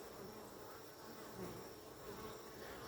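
Honeybees hum at a hive whose numbers have dropped, a dense, steady close-up buzz of many insects with no voices.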